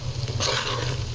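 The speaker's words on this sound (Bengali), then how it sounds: "ফ্রাই হচ্ছে, এগুলো সব ফ্রাই করে এরপর পোলাওয়ের চাল দিয়ে দেব।" Spices with ginger, garlic and cumin paste frying for bhuna khichuri, a brief, dense close sizzle with a soft stirring scrape over a low steady hum.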